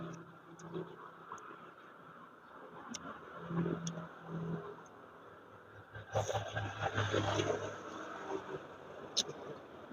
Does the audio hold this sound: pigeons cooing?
no